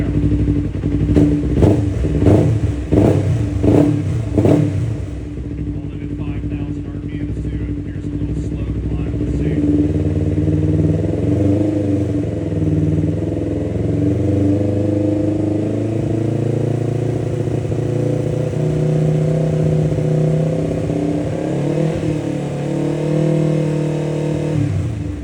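A Yamaha R3 motorcycle engine on its stock map revs in several sharp, loud bursts, then holds a steady high rev. The bike is being checked for sluggish power and has a Power Commander fitted.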